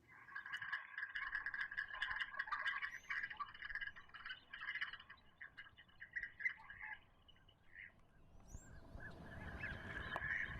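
Geese honk in a Sacramento Valley winter wetland, a busy, distant chorus of overlapping calls that fades midway and returns faintly against a low outdoor hiss.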